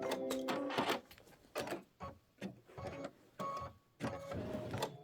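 An embroidery machine stitches a quilt block in stop-and-start bursts of whirring and mechanical clicking, separated by short pauses, fairly quiet and close.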